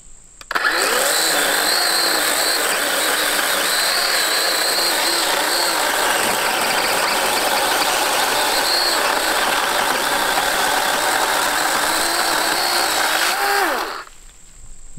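A Dewalt 20V cordless chainsaw cuts through a dry, dead oak log about seven inches across, its motor whining loudly and steadily for roughly thirteen seconds as the chain bites through the hardwood, then spinning down. No one speaks.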